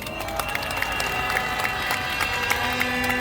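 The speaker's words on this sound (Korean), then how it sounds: "박수 한번 보내주십시오" Applause from a crowd at an outdoor candlelight rally, a steady dense patter of many hands clapping at a distance, with no speech over it.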